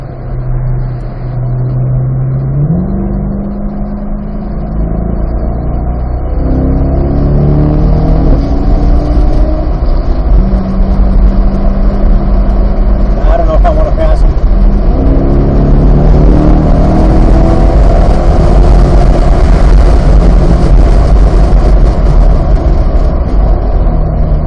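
A race car accelerates hard around Pitt Race track. The engine is loud and close, and its roar climbs steadily through several gear changes with no talking.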